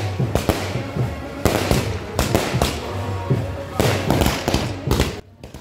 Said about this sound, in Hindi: देखिए बीच बीच में सड़क के बीच देखिए पटाखों की लड़ी लगाई जा रही है